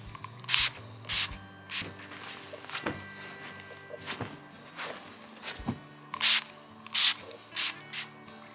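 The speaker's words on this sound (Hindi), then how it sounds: "पिलोस पर भी यही स्प्रे कर देते हैं." A scented fabric spray is misted over bed pillows in short hissing bursts, two pairs of quick sprays separated by soft rustling of bedding and a few light knocks, fairly close.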